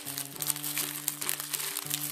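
A snack packet is pulled open close by, its plastic crinkling and rustling continuously for about two seconds over a low steady background hum.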